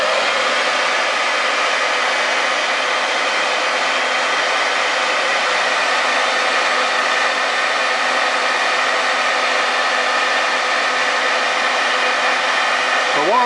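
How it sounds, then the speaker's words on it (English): A vintage hairdryer blows hot air onto a fountain pen with a loud, steady whooshing roar that holds unchanged from start to finish. "what I've got here is my trusty little vintage hairdryer"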